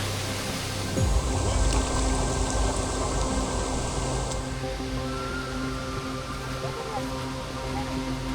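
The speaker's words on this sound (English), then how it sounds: "For a 20-25 foot drop, the amount of water on this waterfall makes it quite impressive." A 20-25 foot waterfall in Panthertown Valley with a heavy flow of water gives a steady, dense, close roar that continues unbroken throughout.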